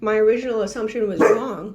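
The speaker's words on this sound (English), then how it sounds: "Excuse my dog." A dog barks a few times close by, its sharp yips and bow-wows breaking through a person who talks steadily the whole time.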